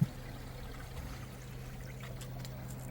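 Water from a pond return pours into a koi pond shower, giving a steady, faint trickling flow that stays even throughout with no voices.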